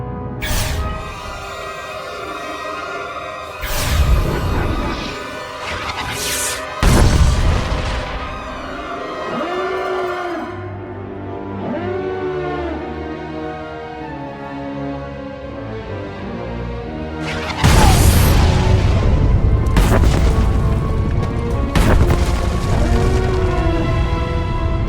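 Satellite weapon strikes from Star Wars: The Old Republic slam into targets as several heavy, loud booming blasts in two bursts, each rumble trailing off over sustained tonal sci-fi ambience.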